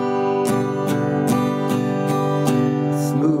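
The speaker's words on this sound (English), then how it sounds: "Smooth, so it's angling up and down as I rake over the strings." Smooth strumming on an acoustic guitar with a loosely held, wobbling pick: about seven even, soft-edged strokes over a ringing chord, close up and without talking.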